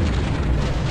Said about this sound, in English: We should start exploding soon enough anyways.